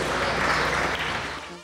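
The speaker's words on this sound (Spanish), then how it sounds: "A través del aplauso de todos y cada uno de ustedes." Audience applause at a charreada event, a dense broadband wash of clapping that fills the short stretch and fades slightly toward the end, with faint voices underneath.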